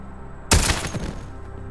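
A single sharp gunshot in the stealth video game Intravenous 2, a loud sudden crack followed by a brief decaying tail over quiet game ambience.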